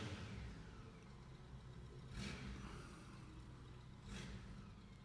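Road traffic rumbles steadily, with two vehicles whooshing past at moderate distance a couple of seconds apart.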